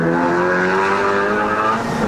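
A tuned Honda Civic Type R FK8 making about 353 whp runs hard on a mountain road in Malaysia, its exhaust a loud, steady droning engine note held close and constant, with no voices.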